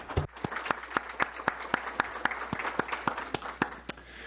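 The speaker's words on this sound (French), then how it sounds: "j'aimerais vous applaudir également maintenant." Sparse applause at the closing plenary session of a conference: a small number of distinct, sharp hand claps in a loose, fairly regular rhythm, each clap standing out clearly, with no voices heard.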